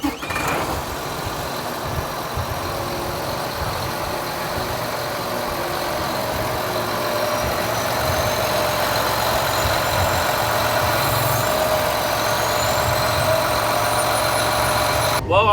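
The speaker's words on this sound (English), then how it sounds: "I don't know what was wrong with the tractor and why it was making that noise" A tractor engine runs steadily with a fault, giving a dense, continuous rumble overlaid by a thin, wavering whine that rises and falls through the middle of the run, heard close and loud throughout.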